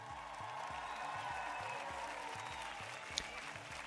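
A live audience gives a round of applause, a steady wash of clapping that holds evenly for several seconds, with a low rhythmic pulse running underneath and one sharp clap standing out near the end.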